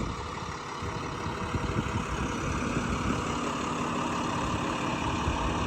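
2009 International Durastar 4300 truck with IMT knuckleboom dump body idles steadily while its PTO drives the hydraulics, a continuous low diesel rumble with a faint hydraulic whine joining partway through.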